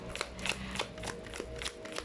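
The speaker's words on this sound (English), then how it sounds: "let me actually just give it a good shuffle" A new deck of tarot cards being shuffled by hand, a soft, steady riffling and flapping close by for about two seconds, with faint clicks of cards striking together and no talking.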